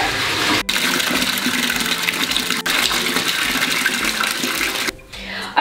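Bath tub filling from a running tap, a steady broadband gush of water that continues throughout with brief dips, close and fairly loud, ending with a quieter tail.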